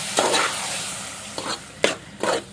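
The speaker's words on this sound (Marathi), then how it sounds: "आता प्रॉपर मिक्स करून घेऊया व्यवस्थित।" Squid being mixed in Malvani masala in a pan, with a few short scraping strokes of a spoon against the metal over a soft background sizzle, close and clear.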